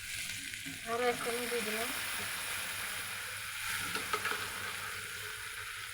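Ginger, garlic and cumin paste sizzles steadily with vegetables in a hot pan, a constant close frying hiss, as someone speaks briefly over it.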